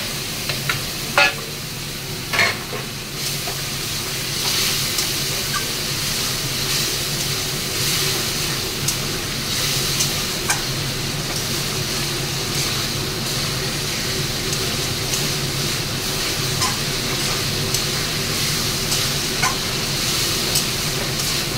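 Spices stir-fried in a pan for a thick Bengali shankar (stingray) fish curry, a steady soft sizzle with scraping stirs running throughout, close and fairly quiet, with no talking.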